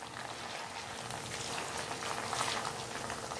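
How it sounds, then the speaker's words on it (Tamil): Chicken pieces for chicken 65 frying in a pan, a steady close sizzle and bubbling hiss that runs without a break and stays at an even level throughout. "चिकन நல்லா ஃப்ரை ஆயிருச்சு நம்ம இத எடுத்துறலாம்"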